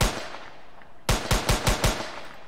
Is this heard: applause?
no